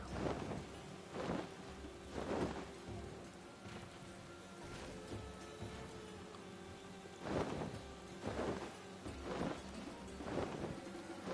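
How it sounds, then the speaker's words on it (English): Steady rain patters softly while low rumbles of thunder roll in repeatedly, distant and muffled, over a continuous wet hiss, from a thunderstorm in the video game Final Fantasy XIV. "Oh, it's still raining"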